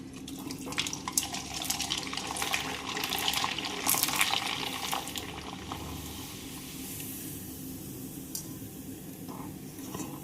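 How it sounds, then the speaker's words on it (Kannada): Chana dal papad dropped into hot oil bursts into a vigorous, hissing sizzle and bubbling that swells for a few seconds and then settles into a quieter, steady fry, heard close up with no talking. "ಎಣ್ಣೆ ಕಾದೈತಿ. ಈಗ ಹಪ್ಪಳ ಹಾಕ್ತೇನೆ."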